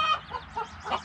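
A hen clucking inside a hen house, three or four quick, close, throaty clucks in a short burst.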